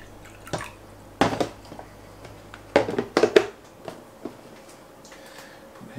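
Water splashes and trickles into a small water dish in a ball python hatchling's tub in a few short bursts, close by, with quiet pauses between pours.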